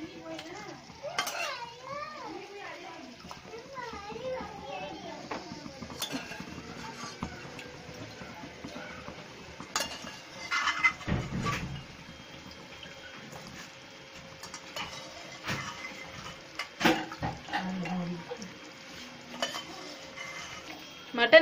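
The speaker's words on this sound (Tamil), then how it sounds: "மட்டன் சேர்த்துட்டு நல்லா மசாலாவோட மிக்ஸ் பண்ணிக்கோங்க" Mutton gets stirred into masala in a pan for Chettinad mutton curry, with scattered spoon clinks and scrapes against the metal, soft sizzling and a faint voice in the background.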